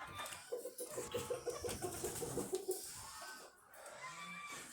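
A flock of chickens, young roosters among them, clucks softly and rhythmically while pecking at snacks, with faint scattered bird calls around them in a quiet outdoor setting.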